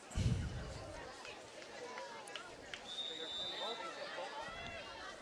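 Crowd of fans at a Hanover Area at Carbondale high school football game, a steady broad murmur of chatter and scattered calls with a thump at the start and a brief high whistle-like tone midway.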